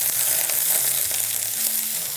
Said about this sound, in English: So I'm gonna go in with my onion first because the onion is chunky. That's the sound, like hardcore sizzle